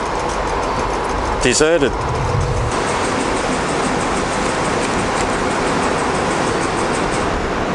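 Nearly deserted Flinders Street Station in Melbourne during the March 2020 coronavirus lockdown: a steady rumble of trains and traffic, with a brief rising metallic squeal early on and someone speaking briefly over it.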